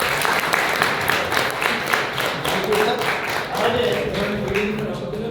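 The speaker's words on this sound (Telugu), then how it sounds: "ఇప్పుడు సార్ చప్పట్లు కొట్టండి మంచిగా" A lecture audience clapping in a full, sustained burst of applause, with a voice talking faintly underneath toward the end.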